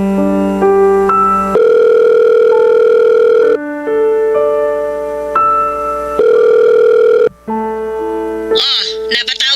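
A mobile phone rings out while calling someone, with a melodic ringback tone of steady electronic notes shifting pitch in a repeating pattern, loud and close, ending in a brief chirp.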